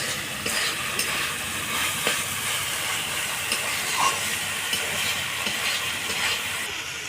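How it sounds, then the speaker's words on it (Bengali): Water spinach cooked with vegetables fries in a pan, giving a continuous close sizzle and hiss with occasional light stirring scrapes throughout. "জলটা শুকিয়ে গেছে, এটা লাল লাল করে ভেজে নামিয়ে নেব।"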